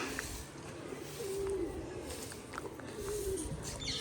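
Pigeons coo at a temple in a Gujarati village: two soft, low coos stand out briefly against a steady outdoor background hiss.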